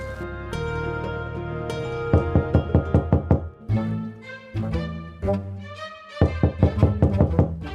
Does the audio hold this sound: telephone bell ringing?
no